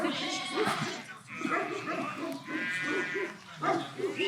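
Sheep and lambs bleating as the lambs reunite with their mothers, a dense chorus of overlapping calls that keeps going without a break, fairly close and loud.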